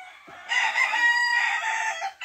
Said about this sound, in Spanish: Es un gallo mansito, un gallo noble.